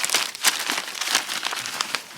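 Plastic bag packaging around a Bright Shower BSB2510-02 column shower head set is pulled open, giving about two seconds of dense, close crinkling and rustling with sharp crackly bursts and no speech.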